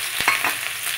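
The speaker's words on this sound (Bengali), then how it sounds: "গরম হয়ে গেছে, পেঁয়াজ, আদা, রসুন দিয়ে দিলাম।" Chopped onion, ginger and garlic hit hot oil in a pan, sending up a loud continuous sizzle with a couple of sharp clinks near the start and no voices.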